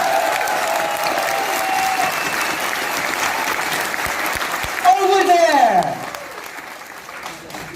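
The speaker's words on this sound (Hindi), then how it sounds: "With a big round of applause." A crowd at a product launch event in India claps steadily while someone speaks over it; the applause swells briefly with a cheer near the end, then fades out.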